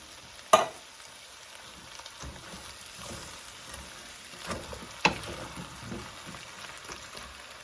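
Diced tomatoes from a 14.5-ounce can tipped into a hot pot for cube-steak stew, giving a sharp splash and sizzle at the start, a second burst later, and low frying crackle throughout with no talk.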